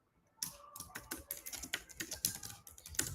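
Fingers typing code on a computer keyboard during a JavaScript lesson, a quick close run of key clicks with uneven rhythm, heard alone without talk.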